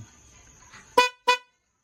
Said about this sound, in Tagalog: Ito yung busina natin, ha, stock horn.